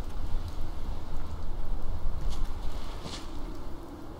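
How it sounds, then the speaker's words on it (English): Radioactive rain pouring in the video game Fallout 4, a steady wash of falling drops with soft patter, moderately faint and continuous with no speech over it. "And I can already hear the radioactive rain just coming down already."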